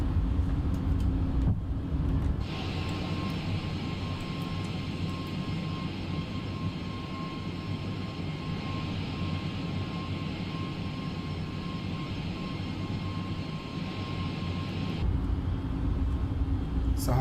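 Airliner engines roar steadily during the takeoff climb of a LATAM A320neo in Microsoft Flight Simulator 2020, leaving Rio de Janeiro for São Paulo. A broad, loud, sustained rumble carries a thin whine and holds constant for most of the stretch.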